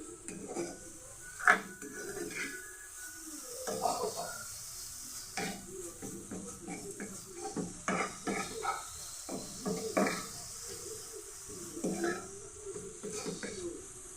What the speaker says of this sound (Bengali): এখন আমি ভালোভাবে মিক্স করে নিব নেড়ে চেড়ে